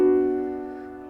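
A single special orchestral chord from Puccini's La bohème, the one marking Mimi's death, sounds alone, sustained and warm, slowly fading over about a second.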